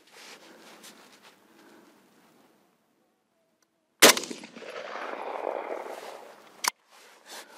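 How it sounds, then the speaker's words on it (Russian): A single sharp, loud shot from a Saiga-308 rifle with a 555 mm barrel cracks out after a quiet pause, followed by a rustling tail and another brief sharp impact. "Выстрел в черную точечку."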